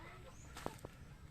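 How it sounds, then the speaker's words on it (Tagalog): Faint, brief clucks from chickens, one or two short calls heard quietly in the distance over low background noise. "marami-rami na din tong mga alaga niyang manok"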